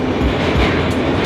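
Subway train rumbling through an underground tunnel at speed, a loud steady low roar with rail clatter filling the whole stretch, no voices over it.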